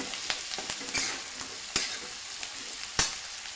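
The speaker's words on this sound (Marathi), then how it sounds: "आणि थोडंसं तेल घालून घेऊयात. हे सर्व पुन्हा एकदा छान असं परतून घेऊ." Vegetables for Maharashtrian bhogi bhaji sizzle in oil with salt as they are tossed, a continuous frying hiss punctuated by several sharp spatula clacks against the pan.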